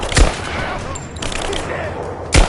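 Gunfire bursts in the video game Tomb Raider, a loud sharp volley opening the moment and another near the end, with sustained battle noise and scattered shouting voices in between.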